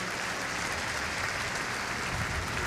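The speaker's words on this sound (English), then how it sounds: "Please applaud them again." An audience at the 24 Hours of Le Mans applauds Hyperpole trophy winners, a dense, continuous wash of clapping from a large crowd that holds steady and loud throughout without a break.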